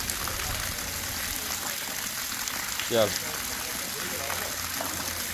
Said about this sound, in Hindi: ये धारा बह रही है पानी की, ये बहती रहती है।